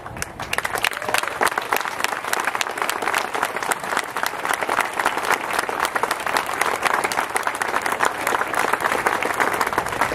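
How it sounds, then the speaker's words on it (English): Dense, steady applause from a large crowd at a military base rally, many hands clapping continuously and evenly throughout. "give them a round of applause"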